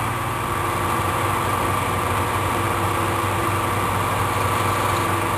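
A power tool chamfers a drilled hole in a metal part for a mini woodstove, giving a steady, continuous motor whine with a low hum that holds at an even level throughout, with no talking.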